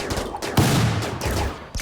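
Colonists firing weapons in the RimWorld video game: a rapid burst of overlapping gunshots and rattling fire, dense and continuous for under two seconds, loud and close, with no voices over it.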